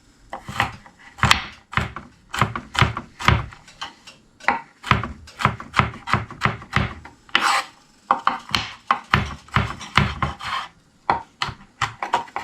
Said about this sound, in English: You kind of want to mince this as best as you can.